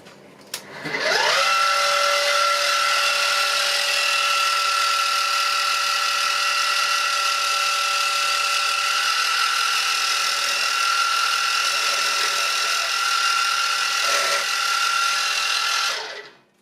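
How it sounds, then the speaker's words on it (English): A drill boring a hole in a milling machine gives a loud, steady high whine with strong tonal harmonics, spinning up at the start and running continuously for about fifteen seconds before winding down, with no voices. "Now I have drilled that hole."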